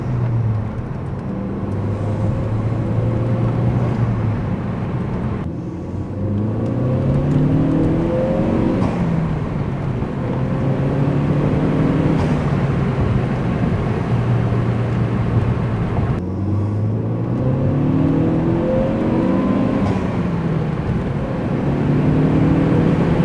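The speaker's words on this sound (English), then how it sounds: "I like the sound of this car a lot better without the Composer" A Ford Focus ST fitted with an eBay cold air intake and upgraded motor mounts drones steadily under load, its engine note sweeping upward through repeated gear pulls with brief dips at each shift, loud and continuous throughout.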